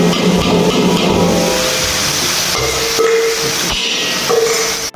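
Ground chole spice paste hitting hot oil in a pan, a loud, steady hissing sizzle that fills the whole clip and dips briefly near the end.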